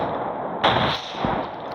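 A tank blows up in the World War Polygon video game: one sharp, loud blast with a broad crackling tail, and a smaller thump follows a moment later over steady background battle noise.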